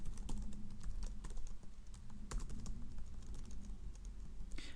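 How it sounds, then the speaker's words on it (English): Rapid typing on a computer keyboard, close and clear, a dense run of clicking keystrokes with uneven rhythm and no voices. "so by typing out our script tags"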